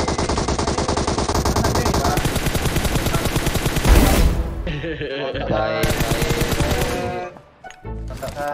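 Rapid continuous machine-gun bursts in a shooter video game, loud and dense with short pauses between volleys and one heavier blast, playing throughout.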